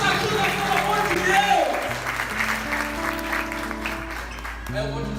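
A church congregation applauds during a Catholic preaching event, a dense clatter of many hands over sustained organ-like chords and a voice speaking, moderately loud and continuous throughout.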